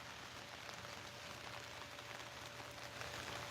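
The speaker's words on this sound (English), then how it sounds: "I am so sick of the rain." Steady rain falling on a backyard swimming pool, a continuous even hiss of drops on the water surface with a low hum underneath.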